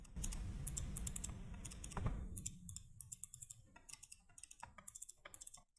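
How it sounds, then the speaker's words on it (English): Typing on a Cooler Master Devastator 3 keyboard: after a brief burst of background noise, a close series of crisp key clicks follows in irregular rhythm, loud and isolated against near silence. "I just brought the camera a bit closer so you guys can hear a tap test"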